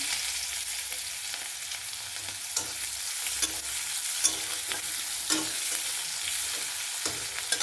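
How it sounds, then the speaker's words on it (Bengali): Chopped onion frying in a pan of hot oil after whole spices were tempered, a loud continuous sizzle with stirring scrapes and small pops running throughout. "ভেজে নেবো পেঁয়াজটা।"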